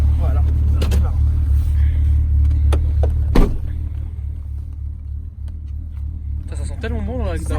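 A 3.2-litre V6 car engine idles with a deep, steady low rumble from inside the car, a brief louder bump midway and some faint clicks and rustling over the top.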